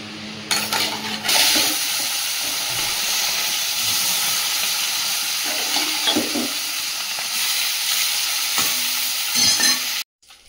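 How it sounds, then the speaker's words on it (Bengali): Fish fries in a pan of hot oil, a loud continuous sizzle and hiss with clattering stirring noises at intervals, ending abruptly, no voices heard. "চাপিয়ে দিয়েছি, মাছগুলো ভেজে নেব।"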